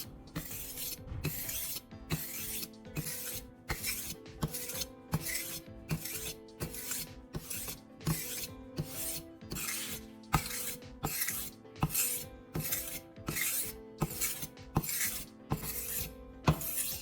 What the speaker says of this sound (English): Take your time and let the stone and angle guide the edge back to life.